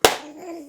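A single sharp hand clap, close and loud, snaps out once and then decays quickly, followed by faint room tone with no talking.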